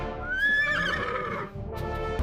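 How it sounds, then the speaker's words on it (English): A horse gives a loud, close whinny that rises and then falls away over about a second, with faint rustling and a hint of hoof clatter behind it. "The animal that stunned Egyptian eyes, the horse."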